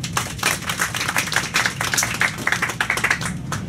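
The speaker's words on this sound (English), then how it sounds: "another nice round of applause for Carolina" Audience applause for a crew member named Carolina aboard a Rocky Mountaineer train carriage, a steady patter of clapping hands from a small group, close and lively, with no talking.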